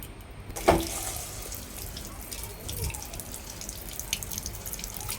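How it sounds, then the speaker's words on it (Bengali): Tap water runs over raw chicken pieces being washed in a sink, a steady splashing wash with a few drips and clinks, close and fairly soft. "তো এটা ভালো করে আগে ধুয়ে নিই"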